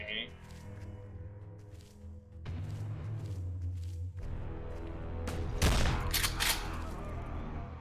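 Gunfire in a shooter video game, with bursts of rapid shots and booms that build to a loud volley near the end, heard under a person talking.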